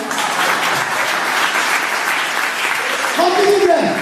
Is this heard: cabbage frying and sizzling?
no